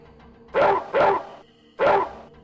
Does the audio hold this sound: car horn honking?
no